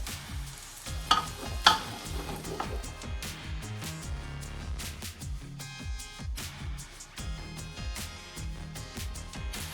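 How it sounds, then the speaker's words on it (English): Mushrooms sizzle and fry in a well-cooked onion mixture for chicken keema biryani, with steady close stirring and scraping in the pan and a couple of sharper clatters early on, beneath a layer of background music. "We're going to add our mushroom to fry up as well. And mix well again."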